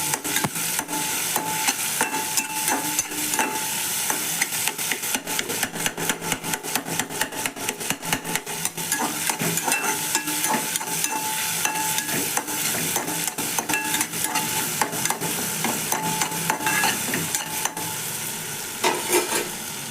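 A tomato rice mixture is stirred and cooked in a pan, with a constant bright sizzle and a rapid, irregular run of utensil scrapes and taps against the pan, close up and with no voices.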